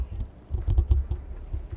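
A cat in the video game Stray purrs as a low, rhythmic rumble of soft pulses, close and fairly faint, with no voices.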